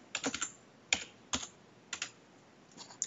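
Keys tapped on a computer keyboard in short, irregular bursts of clicks with brief pauses between, close and fairly quiet.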